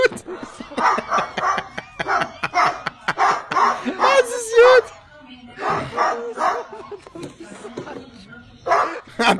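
A dog barks and yips in repeated short bursts, with occasional whimpering, close and loud, amid excited talk and laughter.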